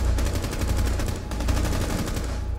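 Sustained rapid gunfire from the video game Rainbow Six Siege, a dense continuous burst of automatic shots filling the whole stretch at close range with no talk.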